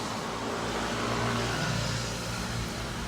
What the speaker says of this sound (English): And as you can hear, there's an awful lot of traffic,